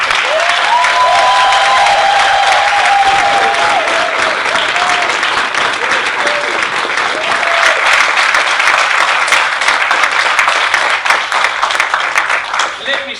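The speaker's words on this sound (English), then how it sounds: "I want you to welcome Mary here today." Loud, dense audience applause welcoming an honoree at a fitness center celebration, filling the whole stretch, with voices and whoops rising through the clapping.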